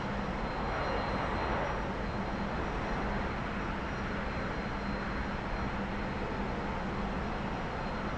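A T-45 jet trainer climbs at about 300 knots in the DCS flight simulator game, its engine giving a steady, even broadband roar with no breaks throughout.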